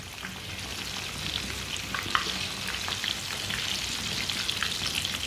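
Egg bread fries in a pan, sizzling and crackling steadily as oil is spooned over the top. The sound is close and continuous with scattered spitting pops, and no voices.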